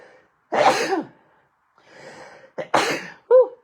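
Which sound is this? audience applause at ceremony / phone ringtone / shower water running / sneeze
sneeze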